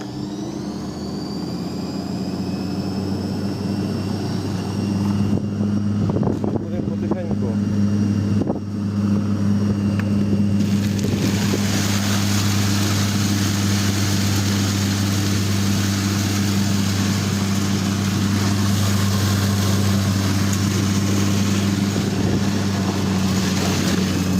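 A grain winnowing fan machine cleaning oats runs steadily and loudly throughout, a constant low motor hum and whirring fan drone with a rushing airy hiss that grows after a speed increase partway through.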